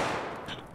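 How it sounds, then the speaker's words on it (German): Single gunshot fired close by on the right in a first-person video game, a short sharp report that fades quickly with no talking over it. "Rechts von uns war gerade ein Schuss."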